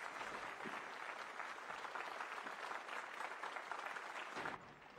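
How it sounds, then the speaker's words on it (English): A room full of children claps in a thick, continuous round of applause that is fairly quiet and even, then drops off abruptly near the end. "Just a room full of children clapping."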